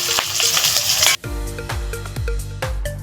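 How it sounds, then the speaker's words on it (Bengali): Salted fish pieces fry in oil for a cabbage and fish-head curry. A loud crackling sizzle cuts off abruptly after about a second and is followed by low, rhythmic clunks and scrapes. "মাছগুলোকে লবণ হলে মাখিয়ে রেখেছিলাম সেটা ভেজে নিচ্ছি"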